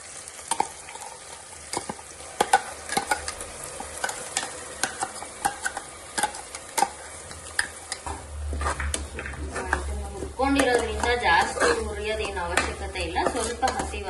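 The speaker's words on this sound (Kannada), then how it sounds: "ಸೊ ನಾವು ಗ್ರೈಂಡ್ ಮಾಡ್ಕೊಂಡಿರೋ ಮಸಾಲಾನ ಹಾಕಬೇಕು" Ground masala for naati-style egg biryani sizzles and fries in a pan with tomato, with repeated sharp scrapes and clinks of a spoon stirring against the metal, and the frying growing louder and denser partway through.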